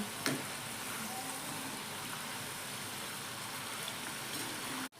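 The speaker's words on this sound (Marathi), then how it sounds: "मध्यम गॅसवरती तळून घ्यायच्या गोल्डन कलर आला पाहिजे थोडा" Shankarpali, crisp savoury Diwali pastry bites, fry in hot oil over a medium gas flame, giving a steady, even sizzle that fills the clip at a moderate level, with no talk, until it cuts off abruptly near the end.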